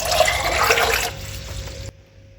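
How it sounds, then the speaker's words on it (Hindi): Water pours loudly into a cooking pot for egg biryani, a close, splashing gush that weakens and then stops abruptly near the end. "पानी में और डालूंगी,"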